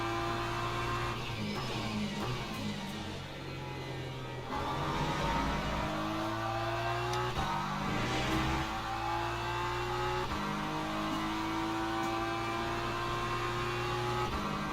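A race car engine in the video game Le Mans Ultimate drones and revs steadily, rising and shifting pitch through gear changes, with no talking over it.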